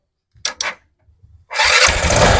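A Motorstar Easy Ride 125 motorcycle gives two short electric-start cranks and some soft clicks, then its engine catches and settles into a loud, steady idle close by.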